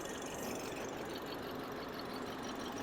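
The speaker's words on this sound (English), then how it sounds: "Take a look at our 4-cylinder turbo engine" A 2023 BMW 230i's 255-horsepower four-cylinder turbo engine idles under an open hood, giving a steady, even hum that stays level and fairly quiet throughout, with no talking.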